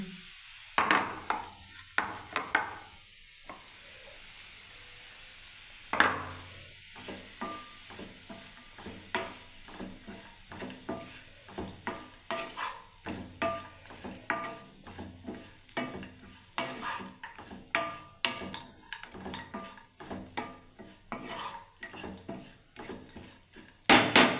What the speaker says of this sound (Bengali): যে ওটসটাকে আমি ভিজিয়ে রেখেছিলাম একটুখানি জল দিয়ে, সেটা এবার আমি দিয়ে দিচ্ছি